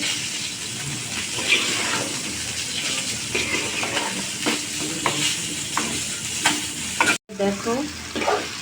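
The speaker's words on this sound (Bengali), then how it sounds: "খুব ভালোভাবে আমি মশলার সাথে মিক্স করে কষিয়ে দেবো" Tomatoes and potatoes frying with spices in a pan, giving a steady, close, loud sizzle with occasional stirring scrapes throughout and a brief cut near the end, with no talk.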